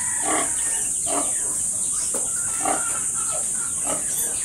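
A pig grunts in short, separate bursts about once a second. It sounds close and fairly clear over a steady hiss, with no talking.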